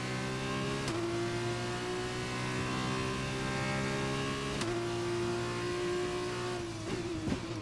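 Steady high-revving F2 single-seater engine in the racing game F1 2021, a sustained whine interrupted by sharp gear shifts with a ticking cut at each change, about three shifts, close and alone.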